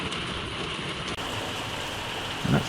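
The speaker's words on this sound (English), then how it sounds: "that's just rain pouring off the roof of the van" Rain pours steadily off the roof of a parked van in France, making a constant close hiss of running, splashing water.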